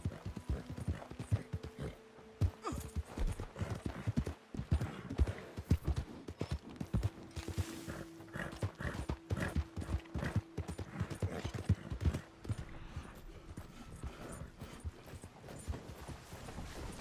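Steady clip-clop of horse hooves trotting at a regular rhythm with creaking tack, moderately close, and occasional low tones in the background, in the video game Red Dead Redemption 2 Online.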